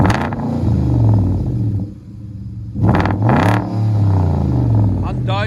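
A 2011 Hyundai Genesis 4.6L V8 with true dual exhaust and Magnaflow mufflers idles with a steady low rumble close by, while someone talks over it almost throughout.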